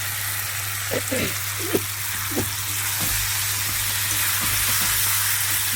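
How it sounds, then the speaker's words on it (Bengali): Green jackfruit and potato fry in spices in a pan, giving a steady close sizzle with a few scraping stir clicks near the start and no talking. "মশলাটা ভাজা হয়ে গেছে, এবার এটা দিয়ে দিচ্ছি এঁচড় আর আলুটা একসাথে।"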